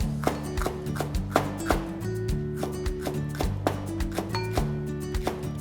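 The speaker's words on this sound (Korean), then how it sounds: "저는 사선으로 이렇게" A knife slices an onion diagonally on a cutting board, steady chopping taps spaced close together, with a low hum running underneath.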